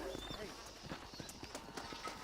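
Horse hooves clip-clop in a steady rhythm in the Red Dead Redemption video game, close and clear, with a brief whinny and someone talking over them.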